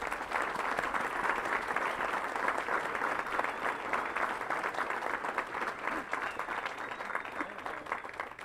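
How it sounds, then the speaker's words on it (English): At the CST 3rd Regiment Advanced Camp 2026 graduation ceremony, a crowd gives awardees a sustained, even round of applause, a dense patter of many hands heard at moderate distance for about eight seconds. "please join me in giving our awardees a round of applause"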